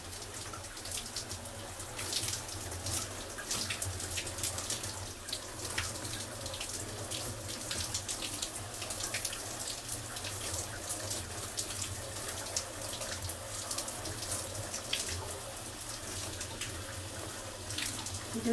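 Water runs steadily from a tap throughout while hair is rinsed on a wash day, a constant close hiss with faint splashing and no talk.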